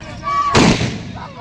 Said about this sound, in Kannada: RCB ಗೆದ್ದಿರೋದಕ್ಕೆ ಮದುವೆ ಚೌಟ್ರಿಲೂ ಎಲ್ಲರೂ ಪಟಾಕಿ ಹೊಡೆದ್ರು ಖುಷಿಯಾಗಿ.